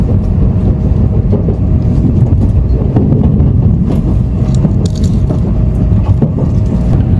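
Steady, loud interior rumble and hum of a Japanese bullet train (Shinkansen) at speed during a two-and-a-half-hour ride, a continuous low roar with faint rattles and no talk.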